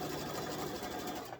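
A sewing machine runs steadily, stitching fabric pieces for a bowl cozy in a continuous, close, even whir that tapers off at the very end.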